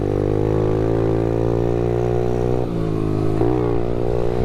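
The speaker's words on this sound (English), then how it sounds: "little pit bikes are so fun" An SSR pit bike engine revs steadily while being ridden, a loud, close, continuous drone that dips briefly twice as the throttle eases and then picks back up.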